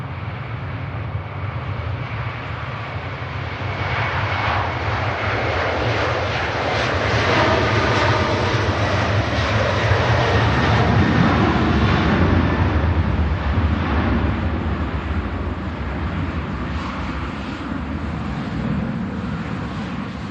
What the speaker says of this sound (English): Aer Lingus UK 330 about to head out to Bridgetown